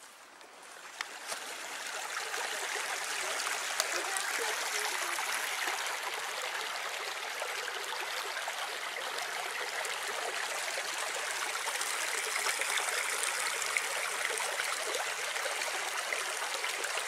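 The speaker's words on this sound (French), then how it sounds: "Voilà le barrage." Water pours steadily over a small stream dam in the French countryside, a continuous broadband rushing with fine splashing detail that holds at the same level from start to end, close and alone with no talk.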